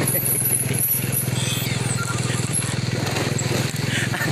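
A motorcycle engine idles and runs with a steady low throb throughout, under a continuous noisy background, with no clear break in the sound.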